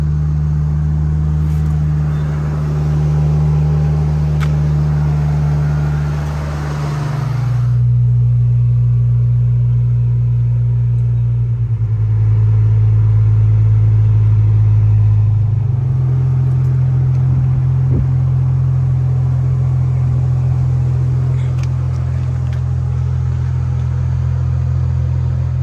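A BMW E36 right-hand-drive car engine idles steadily just after starting, following two months unused: a loud, close, continuous low rumble whose pitch shifts slightly a few times, with no talking.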